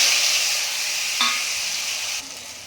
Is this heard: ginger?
yes